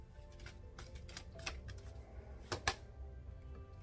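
Tarot cards shuffled at close range during a love reading, a soft run of papery riffling and flicks with a few sharper snaps near the end, no voices.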